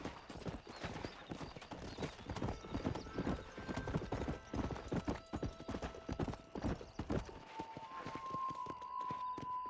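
Horse hooves gallop in Red Dead Redemption, a fast, steady run of close clip-clop beats carrying through the whole stretch, with a brief whinny and some game ambience near the end.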